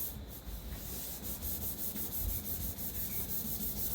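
Steady rhythmic rasping of 1000-grit sandpaper wet sanding a car headlight, rubbed back and forth, close up and continuous.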